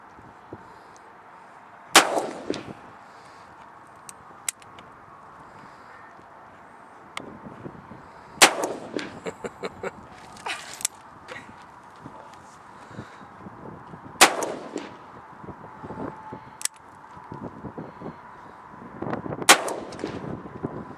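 Four loud, sharp gunshots from a Ruger Super Redhawk Alaskan .454 Casull revolver ring out outdoors, spaced several seconds apart, each with a booming echo, with soft handling clicks and faint voices between shots.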